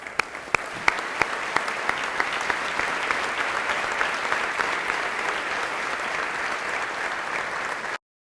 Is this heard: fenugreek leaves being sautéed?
no